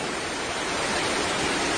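Floodwater in Honduras rushes past under strong pressure, a dense, even roar of turbulent flow that fills the scene continuously and stays close and loud.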